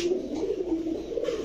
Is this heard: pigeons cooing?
yes